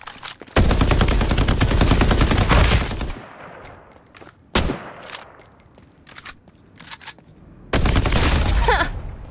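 Automatic weapon fire in the battle royale video game Farlight 84 rattles out in long rapid bursts, loud and close, with a single sharp shot in between and short gaps of quieter game ambience.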